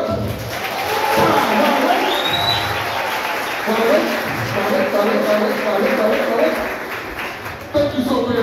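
A hypnotist stage show audience applauds and cheers in a continuous, roomy wash of clapping and crowd noise, with voices and a speaking performer mixed through.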